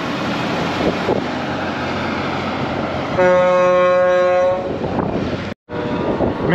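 Chase Briscoe's NASCAR team hauler truck speeding past with a heavy road rumble and a sustained loud multi-tone horn blast in the middle, then a brief cutout before the rumble resumes.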